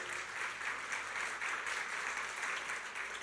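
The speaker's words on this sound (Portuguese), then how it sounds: "Pode aplaudir." Applause from a church congregation, a steady wash of many hands clapping together, moderately distant and sustained throughout with no talking.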